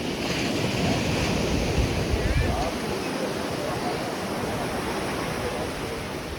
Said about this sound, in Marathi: आणि समुद्राच्या लाटांचा आनंद पण घेतोय